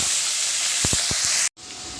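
Fenugreek seeds, cumin and garlic cloves sizzle in hot oil for egg bhurji, a steady close hiss with a few soft pops, then a sudden brief cut before the sizzle resumes.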